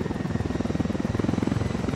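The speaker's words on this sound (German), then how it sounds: "dann können wir den Heli nämlich direkt landen und hier" A helicopter flying in the video game Ghost Recon Wildlands: a loud, close, steady rhythmic rotor thump with a dense engine roar, continuous throughout.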